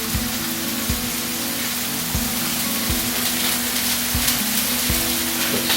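Chicken thighs frying in a cast iron pan give a dense, even sizzle throughout, close and loud, with occasional soft knocks of pieces being set down.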